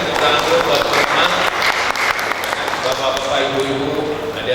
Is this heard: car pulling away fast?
no